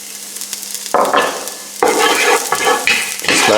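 Garlic fries in heated olive oil in a pan at medium heat, giving a close, crackling sizzle broken by several loud bursts of stirring and scraping, with no talk.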